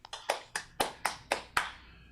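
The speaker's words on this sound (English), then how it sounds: "Everyone has to unmute so your claps can be audible." A small group claps through an unmuted video call at a live-streamed open mic, seven sharp distinct claps in a quick, slightly uneven rhythm, close and clear, then quiet.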